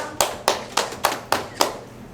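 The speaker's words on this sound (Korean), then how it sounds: "축하의 박수 다시 한번 부탁드립니다." Six slow, evenly spaced claps at a senior welfare center's closing ceremony during an award presentation, each a crisp separate hit with quiet gaps between them.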